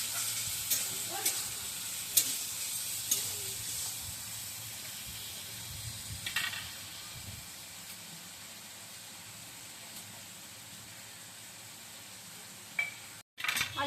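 Potatoes frying in a pan for soybean chowmein, stirred with a few scraping clinks over a continuous soft sizzle and hiss that gradually thins out toward the end, no voices.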